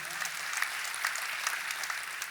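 A church congregation breaks into applause during a sermon, dense continuous clapping from a crowd heard at a moderate distance, brief and steady.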